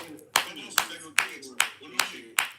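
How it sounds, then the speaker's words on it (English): An audience claps in honour of a girl, several distinct loud claps spaced at a fairly even rhythm, close by and with little else around them. "Let's give her a round of applause"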